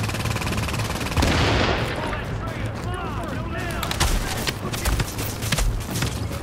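Automatic gunfire and battle effects in the video game The Division on Xbox One S, dense continuous shooting bursts with explosive cracks and a few spoken voices mixed in.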